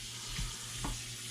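Ingredients for BBQ burgers sizzle steadily in a frying pan while being stirred, a continuous soft crackle with a few brief scraping strokes, fairly close and without talk.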